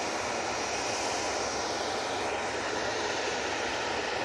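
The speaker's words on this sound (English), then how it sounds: "Finnair is about to come in. Running from Helsinki." A Finnair airliner from Helsinki approaches to land at Manchester Airport, a continuous broad jet roar holding steady and fairly loud for a few seconds, with no voices.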